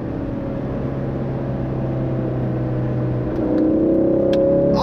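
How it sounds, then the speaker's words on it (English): A 2016 Ford Focus RS exhaust droning steadily, then revving up louder toward the end with sharp crackles and pops, close and loud with no talk. "Oh, that crackle from that exhaust."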